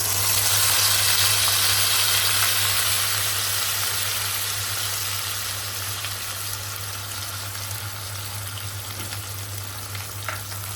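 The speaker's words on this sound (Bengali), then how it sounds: "এই পেস্টটাকে এবার ভেজে নেব।" Onion, garlic, ginger and cashew paste frying in a pan gives a steady, loud sizzle with continuous bubbling that eases slightly over time, over a constant low hum, with no talking.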